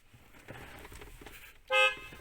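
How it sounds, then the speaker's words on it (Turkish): A single short Peugeot Partner 1.9 car horn honk blares loudly near the end, after quiet interior rustling and faint background noise. "kornamız şurada"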